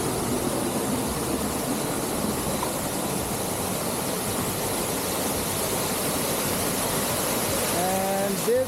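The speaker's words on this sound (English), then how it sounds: "And this is the waterfall." A small waterfall in the East Jaintia Hills of Meghalaya gives a steady, loud broadband rush of falling water with no breaks. A faint rising tone sounds near the very end.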